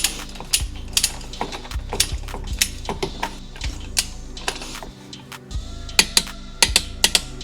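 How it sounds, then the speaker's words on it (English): Harbor Freight Pittsburgh torque wrench with Snap-on sockets tightening downpipe bolts on an FL5 Civic Type R, giving sharp, close metallic clicks and taps scattered irregularly over a steady low background hum. "I'm using snap-on sockets with a Harbor Freight Pittsburgh torque wrench."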